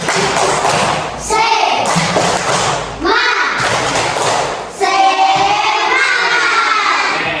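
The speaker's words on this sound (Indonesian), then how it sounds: "Coba tepuk semangat." Schoolchildren in a classroom perform a rhythmic group clap with loud shouted chanting, thumping bursts repeating in several waves, the whole class close and boisterous.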